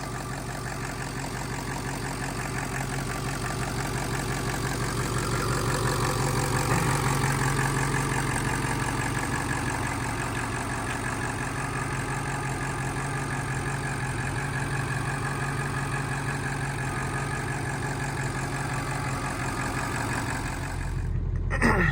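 A 6.0 Powerstroke diesel truck engine with upgraded fuel and turbo, prepared for sled pulling, idles steadily and smoothly up close, a continuous low rumbling drone with no voices.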